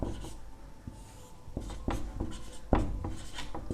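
A pen scratches across paper while a class 9 maths problem is worked out, with soft, close strokes and taps coming in an irregular rhythm and no one speaking.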